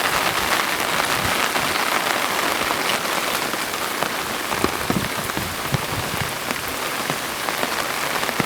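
Heavy rain from a tropical cyclone pours down steadily and loudly, a dense continuous hiss of drops on surfaces with no pauses and no voices.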